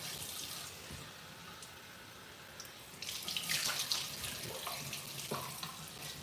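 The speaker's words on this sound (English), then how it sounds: "So now I'm gonna rinse this off." A tap runs water for rinsing off, making a steady close splash and trickle that grows a little louder midway. Nobody speaks.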